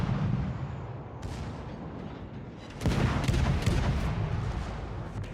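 Naval gunfire in the World of Warships game during a Tashkent destroyer match, heavy booming rumble that swells to a loud sustained barrage midway, dense and continuous with no talk.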